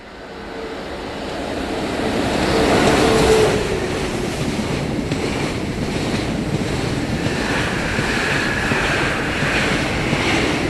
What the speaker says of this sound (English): The train tracks in this area are very busy with many trains going each way.